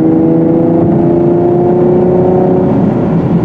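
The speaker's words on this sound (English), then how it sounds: "you can hear how great this Camaro sounds. The exhaust note, like I said, is just so impressive." A 2020 Chevy Camaro RS 3LT V8 is revved, heard from inside the cabin as a loud, steady, low exhaust drone with a slight rise and no voices.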